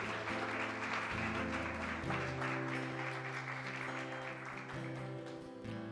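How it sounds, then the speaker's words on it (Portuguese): A church congregation applauds as a dense, steady patter beneath loud sustained keyboard chords, the clapping partly buried by the music throughout. "Pode aplaudir ao Senhor,"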